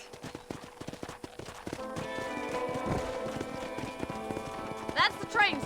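Horse hooves clip-clop at a steady walking pace in the video game Red Dead Redemption, with occasional soft snorts and a faint whinny near the end.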